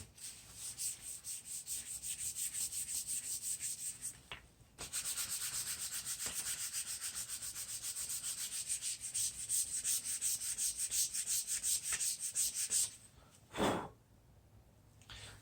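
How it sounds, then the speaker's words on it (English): Steady, rapid back-and-forth rasping of a sanding block on wood, continuous for many seconds with a brief pause midway, close and fairly loud. "So this is a lot easier than trying to hold the sandpaper in my hand."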